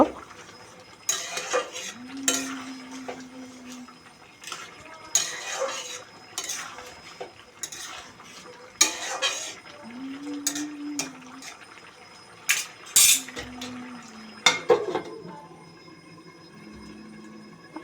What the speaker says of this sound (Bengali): ঢাকনাটা উঠিয়ে নিয়েছি এখন একটু নাড়াচাড়া করে নিব